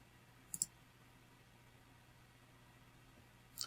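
A computer mouse clicks on a save button, two quick soft clicks close together early on and another near the end, over a faint quiet room hiss.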